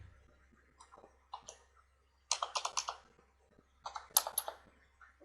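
Bursts of quick typing on a computer keyboard during a lecture on a crypto exchange, clicking in two short clusters of rapid keystrokes with quiet gaps, close and fairly soft.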